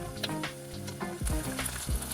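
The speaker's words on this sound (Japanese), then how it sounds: "170度で揚げていく。" Marinated, freeze-stored food deep-frying in oil at 170 degrees, a loud continuous bubbling sizzle with crackling pops and a few low knocks, close up and without talk.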